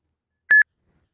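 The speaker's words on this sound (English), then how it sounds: "Your phone will start beeping, and the screen will flash." A single short electronic beep from a phone signalling an incoming Uber trip request, a clean two-part tone lasting a fraction of a second in otherwise total silence.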